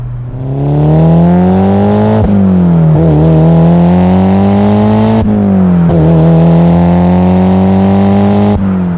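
Stock Mitsubishi Lancer Evolution VIII MR engine revving hard, strong harmonic drone rising and dipping through several gear changes, loud and close with no talk.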